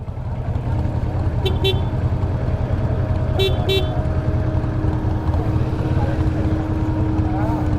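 A car horn in traffic gives two quick double beeps a couple of seconds apart, ringing over a constant loud rumble of engine and road noise.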